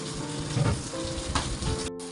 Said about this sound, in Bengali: এই যে এখানে মাছটা এখানে দিয়ে দিয়েছি ভাজতে একসাথে